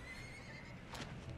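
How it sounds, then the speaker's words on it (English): Horses neighing and whinnying in a fantasy series episode, with hooves clip-clopping beneath a steady background, one whinny rising loudly near the middle of a brief moment. "There's the horses."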